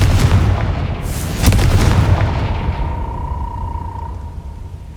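A Confringo blasting spell detonating in the Hogwarts Legacy video game: a loud, close, booming burst with a deep rumbling roar that slowly fades over several seconds, no talking.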